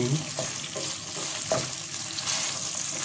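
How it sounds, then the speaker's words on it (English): A steady sizzle of okra frying in a pan, with faint stirring scrapes now and then. "Now I am frying"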